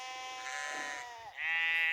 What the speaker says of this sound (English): This sheep is so funny.